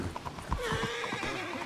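A horse in a video game gives a loud neigh over the steady clip-clop of its hooves, close up and clear with no voices.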